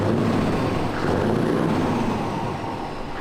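A 4.2 V8 TDI diesel with a straight-pipe exhaust and hard-cut limiter drones loudly and steadily, a close, dense rumble that barely varies across the whole stretch.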